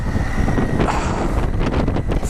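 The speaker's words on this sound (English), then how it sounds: "Just put my visor down a bit because it's getting very windy." Steady wind buffeting close to the microphone of a rider on a Triumph Tiger 800 XCA motorcycle off-road in cold, wet February weather, a constant rough roar with gusty surges throughout.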